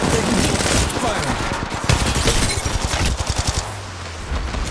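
Rapid automatic gunfire from Apex Legends Mobile crackles loud and close in a steady burst that pulses faster toward the end, with a voice speaking over it.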